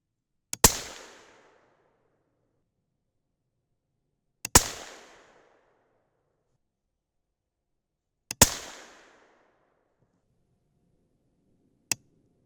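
A 6.5 Creedmoor rifle loaded with Winchester 760 powder fires delayed hang-fire shots outdoors: three loud sharp cracks spaced about four seconds apart, each with a decaying echo tail, then a shorter fourth crack.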